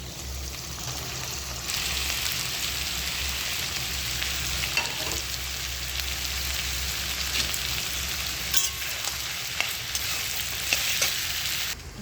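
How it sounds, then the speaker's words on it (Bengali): Potatoes and tomatoes sizzle in hot oil with already-fried prawns in a pan, a continuous loud frying hiss broken by occasional stirring scrapes. "এবার ওর সাথে আলু দিয়ে ভাজা ভাজা হবে,"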